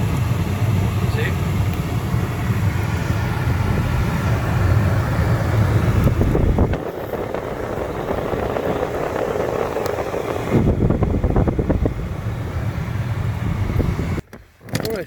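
Blower fan of an Infiniti QX60 running with the cabin filter removed: a steady, loud airy whoosh that drops in pitch partway through and holds at a lower rush, with brief rustling handling noises and a short dip near the end.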